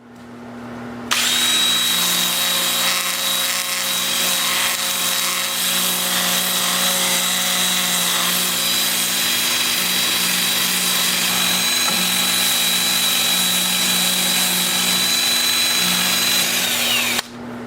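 A drill-driven 2-inch sanding disc at 80 grit grinds against a carved walnut piece, a loud steady whine that starts abruptly, runs unbroken for about sixteen seconds, then cuts off.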